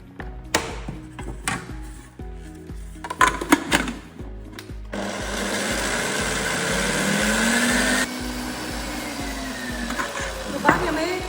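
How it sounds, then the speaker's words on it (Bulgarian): Three eggs being beaten with an electric mixer for a carrot cake, a steady whirring drone running for several seconds after some earlier clatter and bumps. "Започваме с разбиването на 3 яйца."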